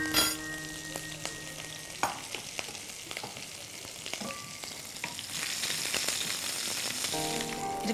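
Green chilies drop into hot oil with a cumin seed tempering and fry in a steady close sizzle, with a few stirring scrapes. The frying grows louder toward the end, and no one speaks.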